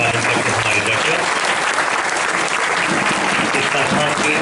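An audience applauds the chief guest at a police passing-out parade in Madhya Pradesh, a dense, steady wash of clapping from a large crowd that continues throughout.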